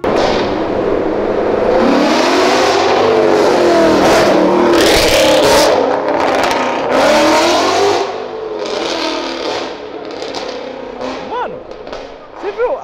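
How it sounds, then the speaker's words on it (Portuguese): A Ford Mustang accelerates hard while trying to lift its front wheels, a loud roaring rev with crackling bursts that swells and then fades, with voices talking over it. "agora um Mustang tentando chamar no grau, isso foi épico"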